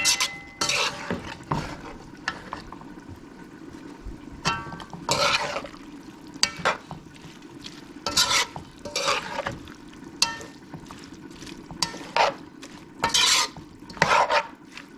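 Curry shrimp and potatoes with thyme being stirred in a pot, a spoon scraping and knocking against the metal in repeated bursts over a low simmering sizzle, close and fairly loud.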